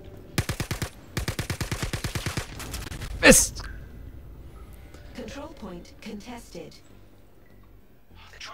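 Rapid automatic gunfire in the Star Citizen video game, Star Marine battle mode, rattles in two loud close bursts, followed by a sharp blast and scattered softer game sounds, with a voice speaking over it.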